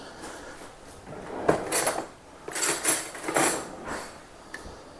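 A utensil scraping sticky toffee pudding batter out of a metal baking pan, a handful of close, uneven scrapes and clinks in short bursts with no voices over them.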